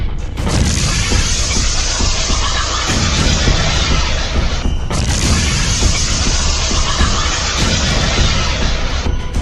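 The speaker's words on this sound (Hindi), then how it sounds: "हिजबुल्लाह के लड़ाके रमीम बैरक के पास एंटी टैंक मिसाइल फायर करते हैं और फिर होता है ये धमाका" A loud, continuous roar of an anti-tank missile explosion near a military barracks, with heavy crackling debris, rumbling throughout with a brief break near the middle before surging again.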